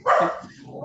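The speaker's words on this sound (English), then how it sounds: "Sorry, my dogs. Excuse my dogs." A single loud, close bark from a dog at home, short and sharp, trailing off into quiet.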